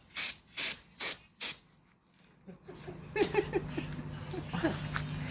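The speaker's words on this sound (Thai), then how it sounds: "เป่าหัวกับถังลมนะครับ" Compressed air from an air tank blowing onto a shaved head in a motor repair shop, four short loud bursts of hissing air, then quieter scattered clicks and low background noise.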